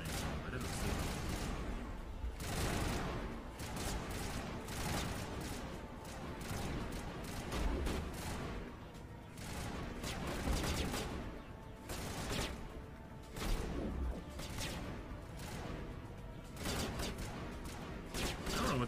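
Enemy gunfire in the Mass Effect video game comes as dense bursts of rapid shots and impacts, continuous and fairly loud throughout with shifting intensity, with no clear speech.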